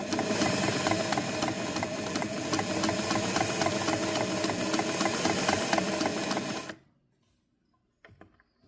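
A Singer 401A Slant-o-Matic sewing machine stitches in a steady, fast mechanical whir with rhythmic needle clatter, close and loud for about seven seconds before stopping abruptly, followed by near silence and a couple of faint clicks.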